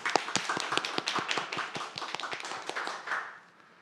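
An audience at a sociology symposium applauds to welcome a speaker, a brisk burst of many hands clapping close and crisp, fading out in the final half second.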